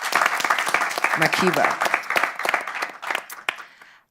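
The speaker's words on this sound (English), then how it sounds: "Round of applause, please" A live-event audience breaks into a short burst of applause, a dense patter of clapping that swells and then tapers off over a few seconds, with a voice speaking over it.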